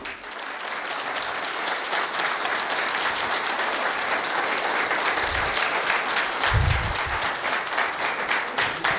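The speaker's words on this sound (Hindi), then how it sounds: "हरजीत बराड़ साहब के लिए एक बार जबरदस्त तालियों से अभिनंदन कीजिएगा दोस्त।" An audience applauding Harjeet Brar at a live event: sustained dense clapping from a large crowd, loud and continuous throughout, with a few low thumps mixed in and no clear talk.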